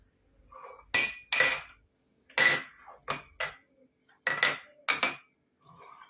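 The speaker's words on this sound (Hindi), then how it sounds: "देखिए मेरे पास एक छोटी सी इस तरह से ये है जार. सो मैं पहले इसे निकाल देती हूँ." Small glass jar clinking and knocking against other glassware as it is taken out, several distinct sharp clinks in short clusters with quiet gaps between.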